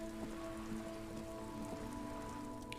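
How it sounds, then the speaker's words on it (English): Soft, steady rainfall patters on surfaces in the detective game Disco Elysium, a faint continuous hiss under a low background hum with no talking. "Just standing out here in the rain."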